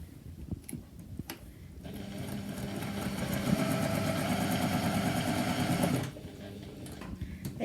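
A sewing machine stitches jelly roll fabric strips together: a few faint clicks and handling sounds, then a steady mid-speed mechanical whir for about four seconds, close and clear, before the motor stops.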